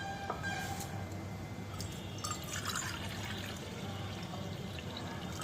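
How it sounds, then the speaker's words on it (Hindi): Water is poured from a cup into a kadai of sugar for syrup, giving a soft continuous trickling and splashing at close range with faint clinks. "अब उसी कप से हमें डालना है पानी"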